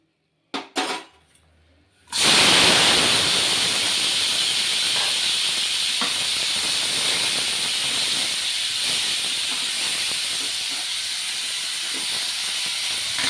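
Tomatoes dropped into a hot pan, a few brief knocks and then a sudden loud hissing sizzle that settles into a steady crackling fry, with no one talking.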